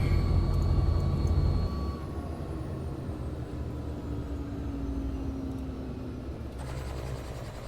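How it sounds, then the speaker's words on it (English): A Robinson R66 helicopter in a flight simulator sound pack gives a continuous turbine whine and rotor hum, loud at first and then slightly quieter after a step, holding steady with a faint high tone drifting down. "I have got a sound pack running in this helicopter."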